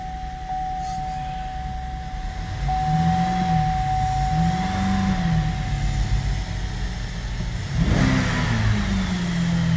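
A 2015 GMC Acadia engine idles and is revved repeatedly, its pitch rising and falling in several smooth swells with a sharper rev near the end, accompanied by a steady high whine.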